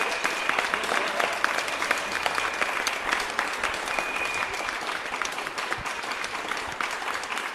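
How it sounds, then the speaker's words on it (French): A church congregation applauding loudly, with dense steady clapping that fills the space without letting up, close and sustained throughout. "On acclame très fort."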